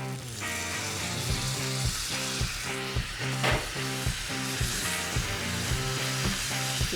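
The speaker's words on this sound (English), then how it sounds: "we're going to take some of that pulled pork, we're going to drop it on the flat top. Hit it with a little barbecue sauce and just mix it up." Pulled pork tossed with barbecue sauce sizzles on a hot flat-top griddle, a steady close frying hiss with scraping stir strokes and background music, no talking.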